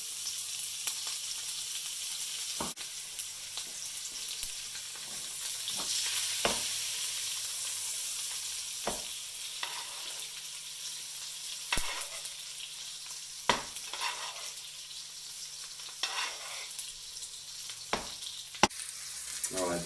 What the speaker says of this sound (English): We'll start basting it.